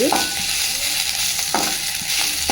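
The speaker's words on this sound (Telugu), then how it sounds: "నెయ్యిని వేసుకున్నా ఇప్పుడు ఇందులో అల్లం వెల్లుల్లి పేస్ట్ వేసుకొని వేయించుకోవాలి" Ginger garlic paste fries in ghee, a dense close sizzle with a couple of quick spatula scrapes against the pan.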